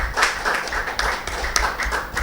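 Audience applause and clapping welcome a poet to the stage at a Holi special stage programme, with steady dense clapping throughout at moderate loudness.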